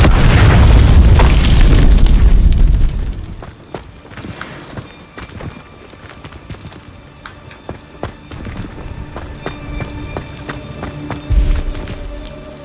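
In Hogwarts Legacy, a Confringo blasting spell explodes in a loud, heavy boom that rumbles for a few seconds, then fades into scattered crackling debris and a second smaller thump near the end.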